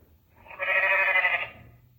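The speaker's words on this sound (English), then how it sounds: "Goat." A goat from a children's farm-animal sound book gives a single bleat of about a second, clear and close with no talk over it.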